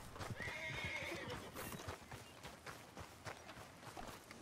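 In Red Dead Redemption 2, a horse whinnies near the start, and its hooves clip-clop in a steady walking rhythm, fairly faint, with game ambience underneath.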